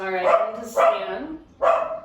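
Three sharp dog barks spaced through the moment, close and loud, with a person speaking briefly between them.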